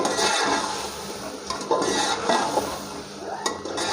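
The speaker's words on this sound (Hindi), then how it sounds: "अब इन मसालों के साथ अपने चिकन को अच्छी तरह भूनेंगे।" Chicken frying with spices in a pot while being stirred, a close, dense sizzle with scraping and occasional metallic clinks of a utensil, no voices.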